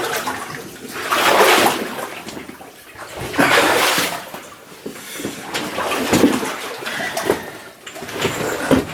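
Someone splashes and wades through water inside an old mine, and loud sloshing bursts come in uneven surges a second or two apart, close by, with no talking.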